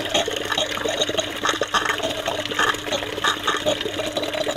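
Water runs from a tap into a tank of silk worms, a steady close gushing and splashing with a faint gurgling flow throughout.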